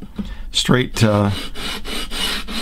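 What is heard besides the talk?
sanding a guitar fretboard with a 220-grit sanding block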